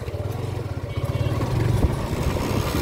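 A 2010/2011 TVS motorcycle engine runs close by with a rapid, pulsing putter that rises slightly in pitch as it revs, loud and steady throughout.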